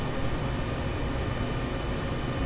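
A commuter train in a Train Sim 2020 game of the Peninsula Corridor in California rumbles past with a dense, steady roar of rail noise, close and moderately loud, with no voices.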